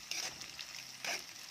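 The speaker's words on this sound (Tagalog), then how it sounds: "So, lutuin natin maigi yung ating sibuyas." Red onions frying in a pan for an Indian-style chicken curry, giving a steady close sizzle with two brief louder bursts of crackle, no talking.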